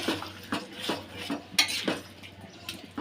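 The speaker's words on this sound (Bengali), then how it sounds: "তো এগুলো ভালো করে মিশিয়ে নিচ্ছি মশলার সাথে।" Chicken skin is stirred with spices in a pan; a spoon scrapes and taps the metal in a quick, regular rhythm over a soft background hum, with no one talking.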